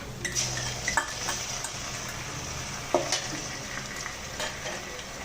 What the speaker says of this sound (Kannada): ನಾವು ಇದಕ್ಕೆ ಇವಾಗ ಶುಂಠಿ ಬೆಳ್ಳುಳ್ಳಿ ಪೇಸ್ಟ್ ತಗೊಂಡಿದ್ದಲ್ಲ, ಅದನ್ನ ಹಾಕೊಂತಿದ್ದೀನಿ